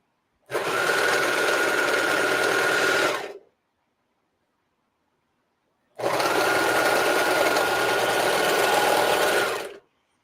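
A sewing machine whirs steadily in two bursts of about three seconds each, separated by a brief silence, close and clear.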